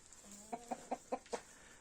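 Chickens with new feathers growing on their backs clucking nearby, a short run of five evenly spaced clucks after a brief low note, over quiet background.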